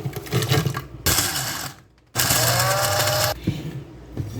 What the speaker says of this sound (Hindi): इन बिस्किटों को सबसे पहले ग्राइंडर में ग्राइंड करेंगे